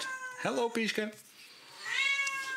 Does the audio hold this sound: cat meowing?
yes